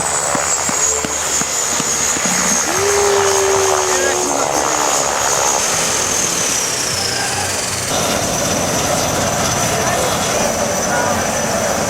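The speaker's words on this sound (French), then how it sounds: "C'est avec émotion qu'on voit arriver le premier avion après 9 mois d'hivernage" Propeller aircraft, the first plane arriving at an Antarctic base after nine months of winter isolation, droning steadily and fairly loud across the whole stretch with a higher engine whine, under wind and background activity.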